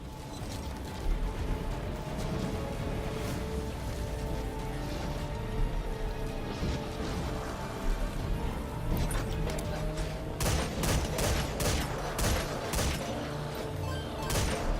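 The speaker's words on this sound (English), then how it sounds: "There's the machine gun." Machine gun fire rattles in the Metal Gear Survive video game over a busy, clanking mechanical game soundscape, breaking out in loud rapid bursts near the end.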